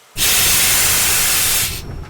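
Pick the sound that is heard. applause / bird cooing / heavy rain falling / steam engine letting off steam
steam engine letting off steam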